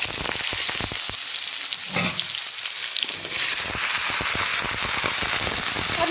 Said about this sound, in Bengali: ছেড়ে দেব কেটে রাখা সবজিগুলোকে।